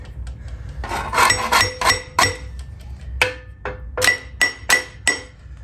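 A hammer strikes a metal part of a Dana Super 60 front axle on an F250 to drive it out, giving about a dozen sharp, ringing metallic blows at an uneven pace, close and loud.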